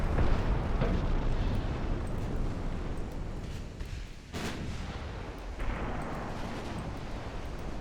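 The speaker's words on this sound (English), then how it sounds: "You may fire armor-piercing rounds on your main guns." Heavy naval main guns fire armor-piercing rounds in the warship game Ultimate Admiral Dreadnoughts as a continuous loud rumbling barrage, with a few sharper bursts standing out near the middle.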